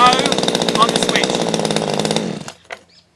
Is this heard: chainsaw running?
yes